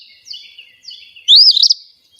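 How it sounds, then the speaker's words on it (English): An Eastern Phoebe, a small flycatcher, gives its raspy two-part call, with soft thin chirps leading into one loud, clear burst near the end, alone with no other sound. "So this is the call of the Eastern Phoebe."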